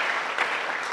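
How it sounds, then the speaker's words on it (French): Audience at a Congolese chamber of commerce business forum applauds, a dense, continuous wash of clapping held at even loudness throughout. "j'aimerais que l'on applaudisse sérieusement ces entreprises"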